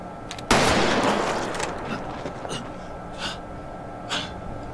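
A loud gunshot from the Squid Game episode 8 drama bursts out near the start and rings away slowly, followed by several fainter sharp cracks over a steady background.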